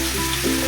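Tomatoes fry in hot oil, a brief close sizzle with a slight stirring shuffle.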